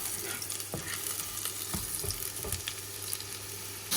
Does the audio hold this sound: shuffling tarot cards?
no